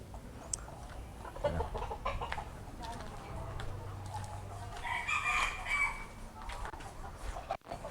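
A broodcock rooster crows among farm chickens being fed, with clucking and rustling around it at moderate distance.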